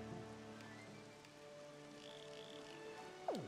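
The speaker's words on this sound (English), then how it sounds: "Of course it's raining, so our field of view is even worse now!" Rain falls steadily in Wind Waker HD, a soft, even patter running the whole time under quiet game music, with a short sweeping tone at the end.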